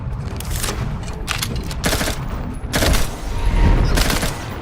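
Submachine gun fire in The Outer Worlds 2 video game, loud close bursts of rapid automatic shots in several volleys with booming low rumble between them.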